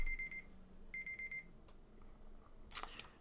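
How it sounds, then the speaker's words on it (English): A timer alarm goes off with two bursts of steady high-pitched electronic beeping, each about half a second long, fairly faint against a quiet room, followed by a brief clatter. "Timer went off to end the episode"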